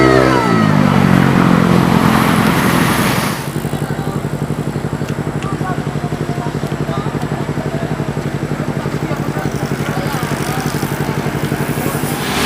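A motorcycle engine revs loudly up close at first, then drops to a steady, throbbing idle that runs on continuously.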